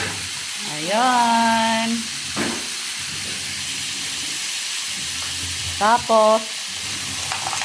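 Clams sautéing in a hot pan give a steady, close sizzle throughout, with a voice talking briefly over it at the start and again near the end.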